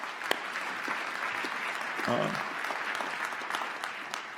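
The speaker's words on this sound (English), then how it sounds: "so a round of applause for them" An audience at an awards ceremony applauds steadily throughout, a dense patter of many hands, while someone speaks briefly over the clapping.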